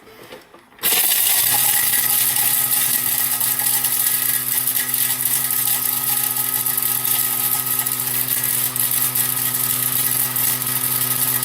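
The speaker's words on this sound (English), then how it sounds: "we're going to grind these together or mill them. 10 seconds, speed 9" A Thermomix TM7 milling ingredients at speed 9 for about ten seconds, starting abruptly after a brief pause into a loud, steady high-pitched whirring whine with a constant motor hum running to the end.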